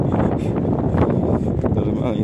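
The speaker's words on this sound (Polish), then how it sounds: "Poważnie wieje." Strong wind buffets the microphone in a loud, continuous roar with gusty surges, and speech sits partly beneath it.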